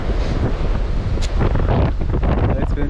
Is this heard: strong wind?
yes